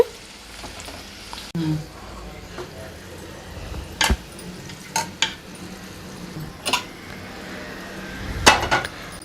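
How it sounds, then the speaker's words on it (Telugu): Tempering spices with asafoetida fry in hot oil for a drumstick pickle, making a steady low sizzle broken by several sharp clacks of a spoon against the pan, some doubled, spread irregularly through the clip. "ఇవి ఇట్లా దోరగా వేయించుకొని పచ్చళ్ళలో కలుపుకోవాలండి"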